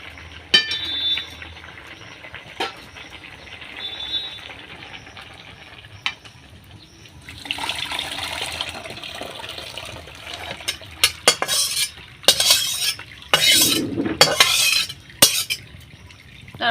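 Boiled banana flower tipped into a pan over a wood fire and stirred: a few soft knocks give way to bursts of scraping and clinking from a utensil working against the metal pan, loudest near the end, with no talk.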